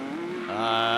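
Car braking hard and its tyres skidding in Gran Turismo 2, driven as a Skyline GTS25 in a race against a Lotus Elise; a steady engine tone gives way to a rising, sustained tyre squeal, loud and close, with no talk.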